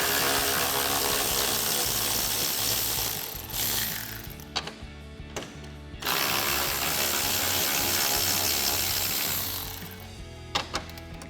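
A ratchet with a 10mm socket clicks rapidly in bursts while removing the upper grille bolts on a 2018-2020 Ford F-150, two long runs separated by a pause and short final clicks.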